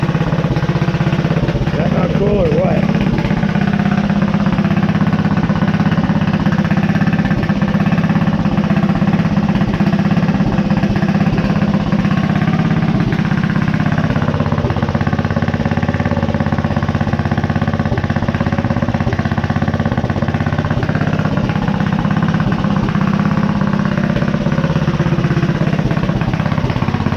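An engine, smoking as it burns oil out of the exhaust, runs with a loud, dense, continuous rumble and vibration that holds unchanged from start to finish.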